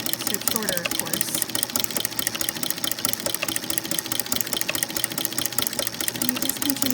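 Sewing machine fitted with a ruffler foot stitching a fabric strip, running with a rapid, steady mechanical chatter throughout, while a person talks over it.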